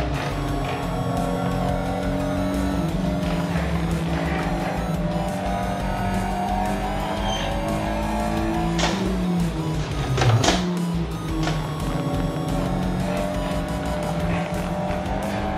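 Race car driven in Assetto Corsa on a home motion simulator, a steady loud engine drone with shifting revs throughout, a sharp tire squeal or skid near the end, no voices.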